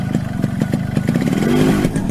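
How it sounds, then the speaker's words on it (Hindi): A motorcycle engine runs close by with a rapid, throbbing putter that rises slightly in pitch toward the end, loud and clear. "Sit on my motorcycle."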